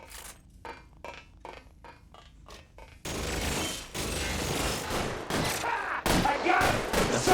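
Gunfire erupts in a video game shootout in LA Noire: sparse crackling shots at first, then a sustained loud fusillade of rapid overlapping bursts that fills the second half.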